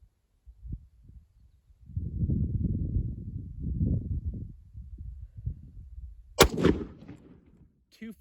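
A rifle fires a single 8mm Ethiopian surplus round, one sharp loud crack late in an otherwise quiet stretch of low rumbling and handling noise.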